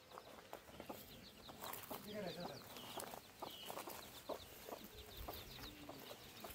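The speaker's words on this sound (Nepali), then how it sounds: "मामले कुखुरा हाल्नुभएको रहेछ यहाँ फेरि हो" Chickens in a coop at a home, giving repeated soft clucks and short calls scattered throughout, close by and fairly quiet, with people talking alongside.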